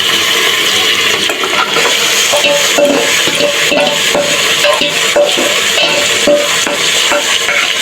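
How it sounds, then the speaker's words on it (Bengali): Pieces of meat dropped into browned onions in a hot pan and stirred, a loud continuous sizzle with repeated scraping and clattering of a spoon against the pan over several seconds. "মাংসগুলো ছেড়ে দিলাম, ছেড়ে এর মধ্যে কষিয়ে নেব।"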